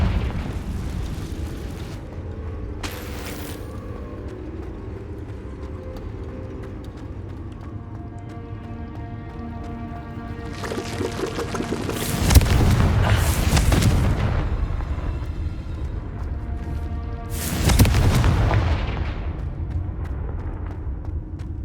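Confringo fire spells bursting in Hogwarts Legacy, several booming explosions with rumbling tails spaced apart over low background game ambience, no talk.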